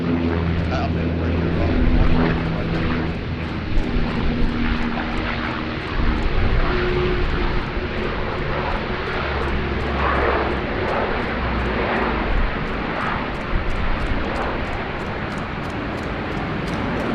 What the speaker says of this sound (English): one of the Dash 8 300s arriving here